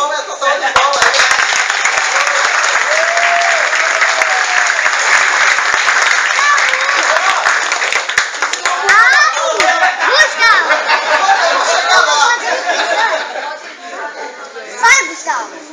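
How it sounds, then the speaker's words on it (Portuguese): Children at a martial arts academy graduation seminar clap in a long round of applause, sustained crowd clapping that thins out toward the end, with children's voices talking over it. "Fica só uma salva de palmas aí."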